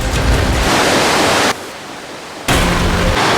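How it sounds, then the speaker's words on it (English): A river rushes through a cave as a loud, steady broadband roar that dips briefly in the middle before returning at full strength, with no voices. "this river actually runs throughout the entire cave"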